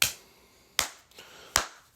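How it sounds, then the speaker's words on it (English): Three sharp, evenly spaced hand claps ring out alone, each crisp and fairly close, with short gaps of quiet between them in an animated scene. "And All for One's clapping in the background."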